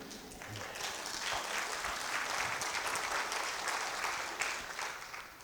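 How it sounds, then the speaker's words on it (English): Steady applause from a sizable audience, sustained clapping at moderate volume throughout with no voices on top. "okay, we'll let y'all clap."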